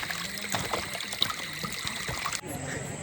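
River water trickles and flows underfoot at night as people wade through it at a village fishing fair in Devgad, with a continuous close watery rush and splashes under nearby voices, cutting off abruptly near the end.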